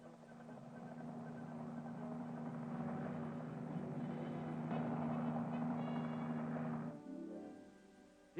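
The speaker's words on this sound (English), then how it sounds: "experienced Army pilots are making a lot of bad helicopter landings" An Army training helicopter, flown by fixed-wing pilots learning rotary-wing flight, drones steadily with a continuous rotor and engine hum, then the tone drops and fades near the end as it settles into landing.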